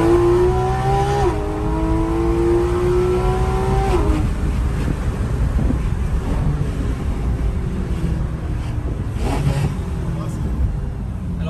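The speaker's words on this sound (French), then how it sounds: "le son de l'Atmo Porsche, il est indétrônable" A Porsche GT3 RS with a naturally aspirated engine drones loudly and steadily, its pitch sliding down over the first few seconds, then holding as a rough roar mixed with wind buffeting.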